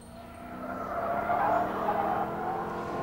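A 550-horsepower Aston Martin Vantage supercar, nearly two tons, accelerating with a rising, steady engine tone and tyre noise, close and building in loudness.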